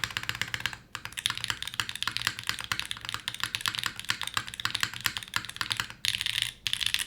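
Loud mechanical keyboard typing with a poppy spacebar, a dense run of close, rapid key clacks with short pauses near one second and six seconds, no voices.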